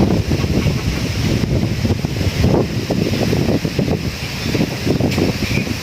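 Dry wind blows steadily and loudly across an open outdoor setting, a continuous rushing roar with gusts throughout.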